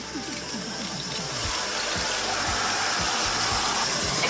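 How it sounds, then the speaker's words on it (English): Tap water runs steadily into a bucket as it fills for washing clothes, a continuous close gushing hiss with a low pump-like rumble underneath, no voices present. "And now we're just going to turn on the water."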